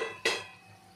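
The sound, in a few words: bombil fish being stirred in a pan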